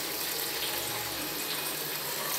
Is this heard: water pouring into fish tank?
yes